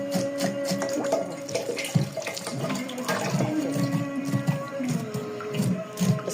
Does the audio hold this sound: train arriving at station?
no